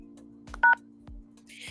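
A telephone keypad gives one short, clear dialing tone, close and loud, over a steady electrical hum. A few soft thumps sit around it.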